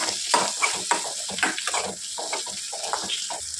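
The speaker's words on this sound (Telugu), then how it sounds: "టమాటాలు బాగా మగ్గేంత వరకు ఫ్రై చేసుకోవాలి" Tomatoes frying with turmeric in a pan, a steady soft sizzle with intermittent scraping and stirring clicks, close and alone without voices.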